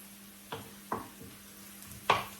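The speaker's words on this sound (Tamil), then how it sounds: "இதுக்கு வெங்காயத்தை போட்டு தாளிப்போம் இதில் பார்த்தீங்கன்னா பெருஞ்சீரகம் போடுறேன் கருவேப்பிலை போடுறேன்" Onion, fennel seeds and curry leaves frying in hot oil, a soft steady sizzle punctuated by a few sharp crackles and spatters, fairly quiet and close, with no talking.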